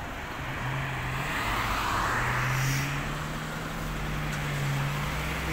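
Road traffic on a street in Japan, with a steady motor rumble as a vehicle approaches and passes nearby, over a continuous background of traffic noise, with no talk.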